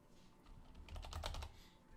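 A short quick burst of keyboard typing, several rapid key clicks close up in a quiet room.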